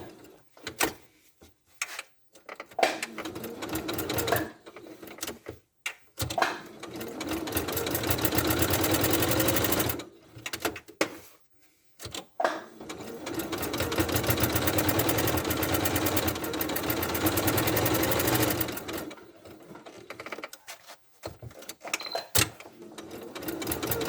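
A sewing machine stitching quilting fabric to batting for a ladybird project runs in close, loud bursts of rapid mechanical whirring, broken by short pauses and handling clicks, with two long continuous runs.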